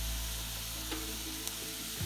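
Bacon and onions sizzle steadily in clarified butter in a pan, a close, even frying hiss with a couple of faint clicks of stirring.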